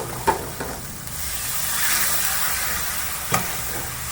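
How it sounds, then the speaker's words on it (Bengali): Spice masala with chili powder and a little water sizzles in a pan as it is stirred for a jackfruit (achor) curry, a steady close hiss with a few sharp spoon taps and scrapes. "এবার একটু সামান্য জল দিয়ে মশলাটা নেড়ে চেড়ে নেব।"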